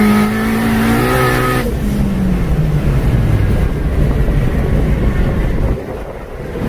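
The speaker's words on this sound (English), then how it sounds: "we got the Civic all loaded up on the dyno, ready to make a rip" Turbocharged 2006 Honda Civic Si on a dyno, engine revving hard with a rising tone that breaks off into a loud, sustained roar, steady and close with no talk.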